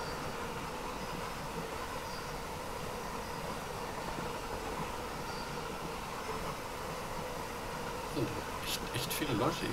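Long BR 155 electric locomotive hauling a container freight train between Bremen and Oldenburg in Train Sim World 3, giving a steady rolling rumble and wheel noise throughout, with a few brief clacks near the end.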